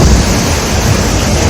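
Sea waves wash against the shore under strong wind, a loud, dense, steady roar of surf and wind buffeting the microphone with no voices.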